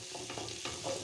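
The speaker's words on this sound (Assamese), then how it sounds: "ইফালে পিঁয়াজখিনি ভাজি আছোঁ আৰু অকণ সময় ভাজিব লাগিব" Onions frying in a pan with steady close sizzling and occasional stirring scrapes, the crackle continuous and even throughout, no voices.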